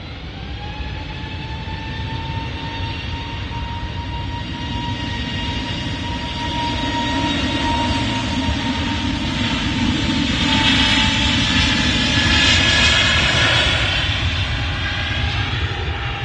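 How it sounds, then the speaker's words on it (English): A British Airways A320neo jet at Manchester Airport, its engines a steady loud roar with a whining tone that swells toward the middle and stays strong, no voices over it. "British Airways A320neo shuttle service heading back to London Heathrow."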